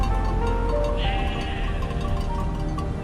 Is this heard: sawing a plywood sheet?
no